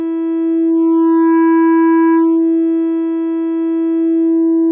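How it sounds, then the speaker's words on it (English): Sustained modular synth oscillator tone run through a VCA as saturation is raised, a steady harmonic drone whose upper overtones swell and shift in a slow sweep, loud and alone. "listen to what happens to the high frequency content of the signal when I bring up the saturation"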